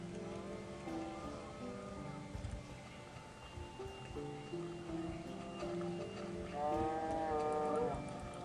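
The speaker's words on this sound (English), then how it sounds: "Cows that drop beef." A cow in the video game Minecraft lets out drawn-out, tonal lowing calls, one after another, fairly faint against other game sounds, with a stronger call near the end.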